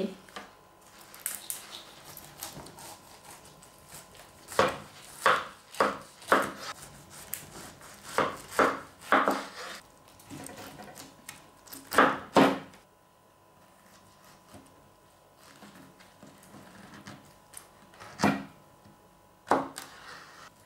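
A knife chops firmly through the ends of a juicy pineapple on a cutting board, several crisp cuts in quick clusters with quiet pauses between them.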